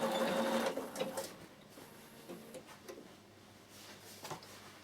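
A Bernina sewing machine stitching a summer peak cap, a loud rapid mechanical whirr at the start that stops after about a second, followed by quieter clicks and handling noises nearby.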